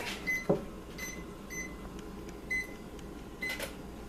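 Several short, faint electronic beeps sound in quick succession from an oven timer being set, with quiet kitchen background noise and a soft knock.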